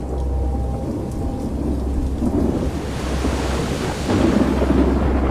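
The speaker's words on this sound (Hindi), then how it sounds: "शायद ही आसमान का कोई हिस्सा होगा जो इस बाढ़ वाली बारिश से फट नहीं रहा था।" Heavy rain pours down steadily in a thunderstorm, a dense close hiss of drops with low rumbling thunder swelling beneath it and growing stronger toward the end, with no voices.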